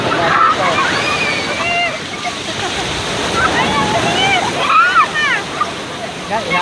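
Ocean waves wash steadily onto a beach as a small child plays chasing them, the surf a continuous close rush with high excited children's voices and shrieks rising over it.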